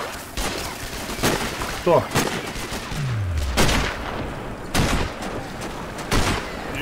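Sniper Ghost Warrior gunfire: sharp rifle shots crack at intervals, roughly six separate reports over a busy game soundscape, with a brief spoken voice in between.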